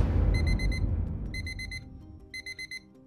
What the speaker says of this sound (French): Le réveil sonne, vous rappelant que la journée a déjà commencé avant même que vous n'ayez ouvert les yeux.